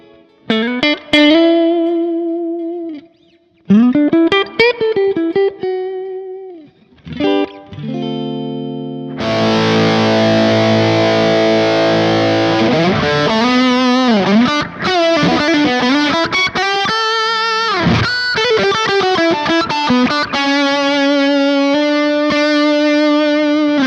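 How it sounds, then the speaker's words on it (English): Electric guitar played through an amp profile with the Mosky Black Rat distortion pedal off: plucked single notes and ringing chords, then sustained strummed chords with some effect coloring. "this is how the profile sounds without the distortion pedal engaged"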